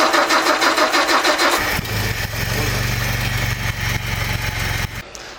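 A tired Peugeot 402 with a rebuilt replacement engine cranks with a rapid, rhythmic starter churn for nearly two seconds, then catches and settles into a loud, rough idle heard close up before cutting out near the end.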